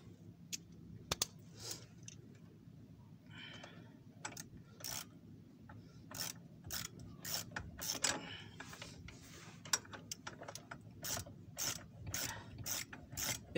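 Screw being tightened on a suspension ball joint of a Citroën C5/C6, giving quiet, close ratcheting clicks in a rapid uneven series over a low background hum.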